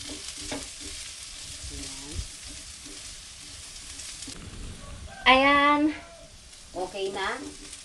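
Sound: ginger frying golden brown in a pan

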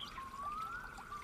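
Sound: water trickling around feet, radio play sound effect

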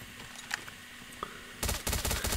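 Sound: gunfire from video game COD Mobile

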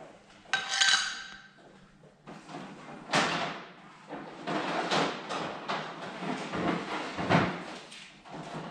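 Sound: mixing Rust-Oleum epoxy part A with part B

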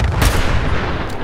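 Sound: gunfire and explosions in the video game Fallout 4

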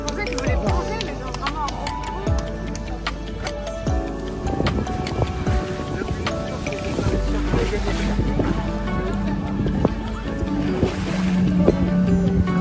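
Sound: waves around a sailing catamaran

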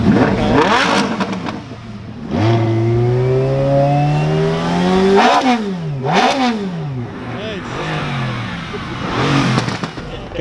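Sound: car engine revving in a rev battle

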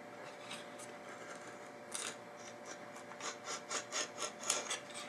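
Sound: razor knife cutting cork

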